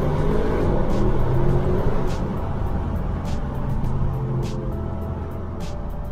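Exhaust note of a 600 hp car driven slowly through a tunnel in manual mode, a steady droning rumble echoing loudly throughout with no talk over it.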